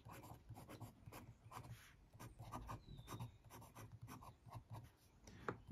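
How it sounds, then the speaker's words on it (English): A broad nib fountain pen scratches across a Rhodia paper pad, close and quiet, with short rhythmic strokes and brief pauses as letters are formed, a soft dry rasp throughout. "there's definite feedback on this Rhodia pad"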